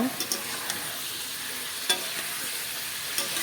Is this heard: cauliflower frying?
yes